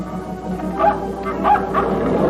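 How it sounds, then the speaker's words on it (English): A dog in a 1948 Howdy Doody puppet television episode gives a few short yipping barks in quick succession, moderately loud over a low hum. "So the dog is trying to tell Jonesy that he should hurry into Bobby's room"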